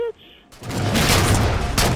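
In Halo Spartan Ops, a brief tone and a pause give way to a loud, continuous burst of gunfire that holds steady for over a second, close and heavy, with a player's voice mixed in.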